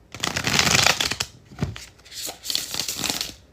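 A deck of cards gets a bridge shuffle: two bursts of riffling flutter, each ending in a soft bridge rattle, close and crisp with no talking.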